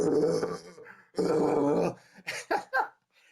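A voice imitates the gravelly growl of the Punisher from the film Spider-Man: Brand New Day, with two long rough growls followed by a few short clipped grunts, loud and close with no other sound.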